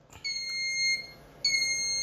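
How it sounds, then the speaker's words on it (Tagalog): Two high electronic beeps from a cigarette vending machine, the first long and steady, the second starting after a short pause, over faint background noise. "So mag-beep siya twice, then mag-blink."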